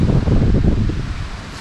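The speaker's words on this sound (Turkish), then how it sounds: "Rüzgar da çok fazla." Strong wind buffeting the microphone at an outdoor beehive, a loud, rough, gusting rumble that eases slightly toward the end, with no one talking.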